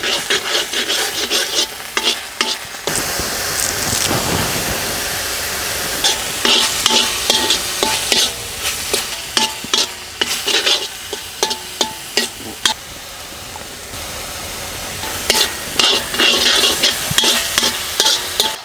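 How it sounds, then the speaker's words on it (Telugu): Sea crab curry masala with chopped green chillies is stirred and fried in a wide kadai: a steady, close sizzle broken by repeated scraping and rasping strokes of a spoon, with no voices. "దీన్ని ఇలా పచ్చివాసన పోయే వరకు 3-4 నిమిషాలు ఇలా బాగా కలుపుకోవాలండి"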